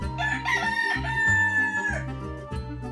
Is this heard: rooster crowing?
yes